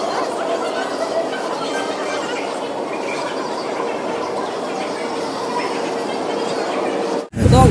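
Railway station at a Gujarati village fair, with a steady roar of a train and platform crowd, chatter underneath, ending in a brief dropout and a louder low rumble.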